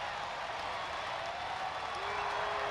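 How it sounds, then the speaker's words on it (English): The crowd at a middleweight sumo tournament cheers after a rematch victory, a steady, dense roar of voices and clapping with no breaks. "the crowd is going wild over this rematch victory"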